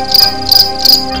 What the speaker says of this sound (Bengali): শুধু ঝিঝি পোকার ডাক শোনা যাচ্ছে।